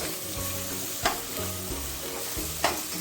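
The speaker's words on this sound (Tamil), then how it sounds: "இஞ்சி வெள்ளைப்பூடு பேஸ்ட் இருக்குது பார்த்தீங்களா, அது போட போகிறோம். நல்லா சுத்தியில் வதக்கி விட்டுருங்க." Ginger garlic paste sautés in a pan for a potato pulao, a continuous close sizzle broken by two sharp scraping stirs of a spatula, with no voices.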